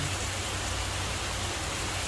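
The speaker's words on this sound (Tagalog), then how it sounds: "Na biglang bumuhos yung ulan." Sudden heavy rain pours down outside a house, a dense, steady hiss of water that stays loud and unbroken from start to finish, with no voices over it.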